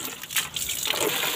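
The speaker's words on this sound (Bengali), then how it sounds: "দেখো বন্ধুরা, এবার আমরা জল নিয়ে নিচ্ছি।" Water gushes and splashes as it is poured into a container, a continuous close, moderately quiet liquid rush with faint bubbling.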